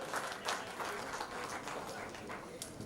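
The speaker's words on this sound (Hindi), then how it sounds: "आज के सभी कलाकारों के लिए एक बार जोरदार तालियां हो जाए" An audience at an evening poetry and cultural programme at the Indian Institute of Coal Management claps for the performers, a dense, fairly faint patter of many hands that is sustained throughout and heard from a distance.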